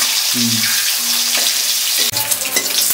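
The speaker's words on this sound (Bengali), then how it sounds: "আর এদিকে কিন্তু আমাদের ডিমটা ফ্রাই হচ্ছে।" Eggs frying in a pan, a loud close sizzle with brief tonal squeaks early on and a sharp clatter near the end.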